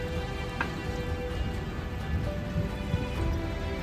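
Steady rain falls around a hillside forest spot at Khajjiar in Himachal Pradesh, a dense, even patter with scattered drops across the whole stretch and no voices.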